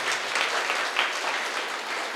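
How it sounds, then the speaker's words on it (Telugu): An audience at a meditation-centre celebration in Gudivada breaks into steady, moderately loud applause, many hands clapping in a continuous patter with no voices over it. "ఒకసారి గట్టి క్లాప్స్ కొడదాం ఈ సంకల్పానికి."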